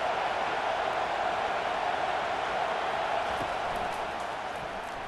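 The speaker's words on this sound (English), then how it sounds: "Third down, and this crowd is tearing the lid off this place." Stadium crowd in the College Football 25 video game on a third down, a sustained, dense roar of cheering and noise holding at a steady level throughout.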